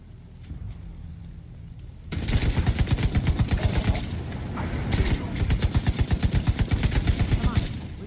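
Gunfire in the Division 2 video game, where a short quiet stretch gives way to sustained rapid automatic bursts, loud and close, with brief pauses between volleys and voices speaking underneath.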